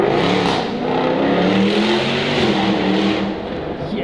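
A Jaguar F-Type R accelerates hard, its engine revving loudly and continuously with a rising, roaring pitch, close and unbroken throughout with no talk over it.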